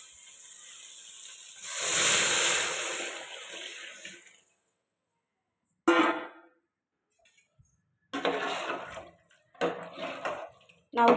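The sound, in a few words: tamarind and chili powder mix poured into frying brinjal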